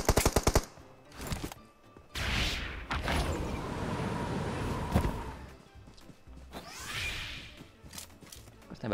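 Gunfire in a shooter video game: a rapid burst of automatic shots opens, followed by sustained loud firing and whooshing effects, with further shot bursts near the end.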